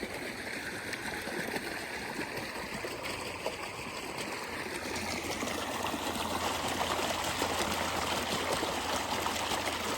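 Irrigation water flows steadily into a paddy farm field, a continuous gushing and trickling rush heard close by and at an even level throughout, with no voices.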